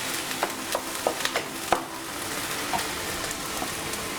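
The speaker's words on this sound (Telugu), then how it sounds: "పసుపు వేసుకొని బాగా కలుపుకొని" Rice with turmeric being stirred in a pan for masala pulao, leftover rice cooked on a tava, giving soft scattered scrapes and light clicks of a spoon over a faint steady sizzle.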